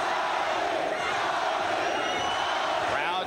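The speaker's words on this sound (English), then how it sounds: "Crowd chanting for Gatti." A boxing arena crowd roars steadily for Arturo Gatti during his fight with Tracy Patterson, a dense, loud wall of voices and cheers that swells without a break.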